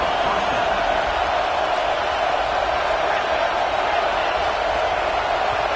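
A football stadium crowd roars loudly and continuously throughout, a dense, even wash of cheering noise with a voice faintly beneath it.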